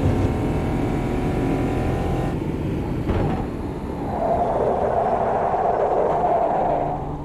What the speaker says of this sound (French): Ah, les pneus, tu les entends